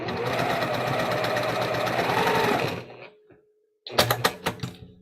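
A home sewing machine stitches a seam in a steady, loud mechanical run for nearly three seconds, then stops abruptly; after a short silence a few brief clicks and knocks follow as the bobbin runs out.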